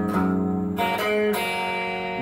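Guitar notes picked one after another on open and fretted strings, a few clear plucks ringing into each other at close range with no talking.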